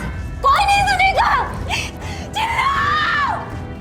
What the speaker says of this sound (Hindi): अब तुम चिल्लाओ, जोर जोर से चिल्लाओ